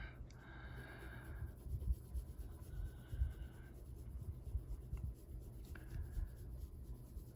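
A Prismacolor colored pencil lightly shades on paper, producing a soft, continuous scratchy rubbing with faint strokes and quiet breaths close by.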